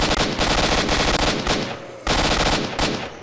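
Automatic gunfire in the video game S.T.A.L.K.E.R. Shadow of Chornobyl, loud continuous bursts of rapid shots with brief pauses between them, dense and close.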